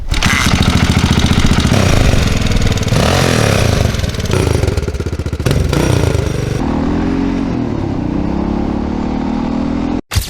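Single-cylinder thumper engine of a 1983 Honda XR500 dirt bike idling steadily and loudly up close, with a rough, pulsing low rumble that shifts slightly partway through and cuts off abruptly at the end.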